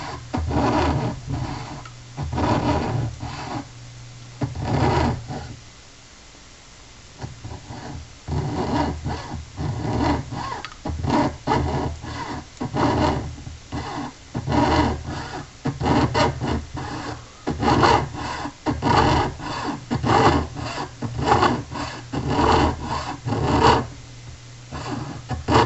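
A small jeweler's saw cuts a metal pendant by hand, making rapid rough rasping strokes in steady rhythmic bursts, close and fairly loud, with a brief pause partway through.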